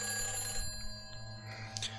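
A dead telephone rings inside the apartment in Silent Hill 4: The Room, a faint, steady electronic trill sitting beneath a low droning ambience, with no one talking over it.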